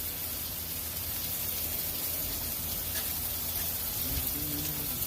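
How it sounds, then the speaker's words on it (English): Steak sizzles in a hot pan, a steady close hiss of frying fat running without a break throughout. "Listen to that sizzle."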